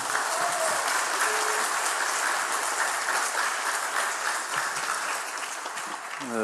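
Congregation applauding at an elder ordination thanksgiving service in a Korean church, a steady, dense wash of clapping filling the whole stretch with little letup, fairly close and loud.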